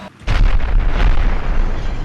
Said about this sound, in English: I got a guy running into a trailer and it blows up.